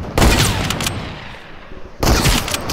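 Gunfire in a mobile shooter video game: two dense bursts of rapid automatic shots, loud and close, separated by a short lull of quieter background noise.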